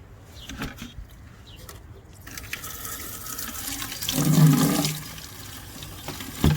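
Water from a tap runs and splashes into a bucket, building to a louder, fuller gush near the end before easing off, close by with no talk over it.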